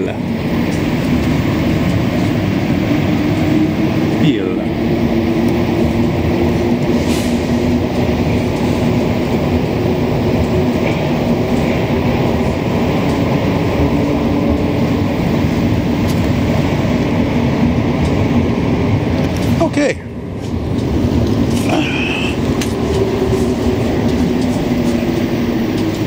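Steady rumbling roar of a Montreal Metro Green Line train in motion at rush hour, heard from inside, with constant rattling and a brief dip partway through; no talk.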